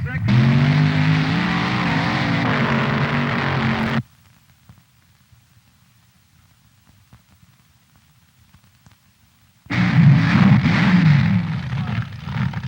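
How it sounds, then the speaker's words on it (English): Drag racing cars at the 1969 NHRA National Drag Racing Championships in Indianapolis, accelerating down the quarter mile; a loud, rough engine roar for several seconds, a near-silent gap, then the roar returns just as strongly. "Two cars dice for a quarter mile."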